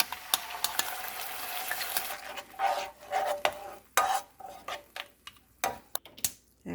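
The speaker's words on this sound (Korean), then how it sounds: "아직 팬이 뜨거우니까 타지 않도록 이렇게 좀 저어주고요" Garlic and dried shrimp with sauce are stirred in a hot pan for a Korean stir-fried dried shrimp dish. The spatula scrapes in a steady run, then in short separate strokes over a soft sizzle.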